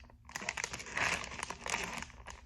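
Crinkling plastic packaging of a toy ball being handled and pulled open up close, a dense run of crackles and rustles swelling and easing over a couple of seconds.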